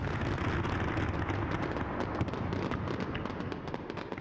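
Fireworks burst continuously in a dense, rumbling barrage of crackles and booms, loud and sustained with no clear pauses.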